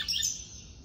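A papa-capim, or capuchin seedeater, sings a short bright chirping phrase, loud and close, with no voices over it.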